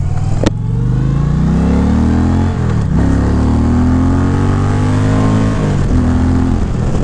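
An Indian Challenger motorcycle engine revs loudly and close, its pitch climbing in long pulls with brief dips between throttle blips.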